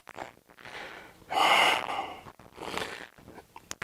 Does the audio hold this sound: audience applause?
no